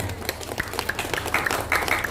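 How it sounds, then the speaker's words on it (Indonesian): Audience applause for the village head at a wayang performance he organised, steady crowd clapping throughout, moderately loud, with scattered sharper claps standing out. "Tepuk tangan lagi buat Pak Lurah"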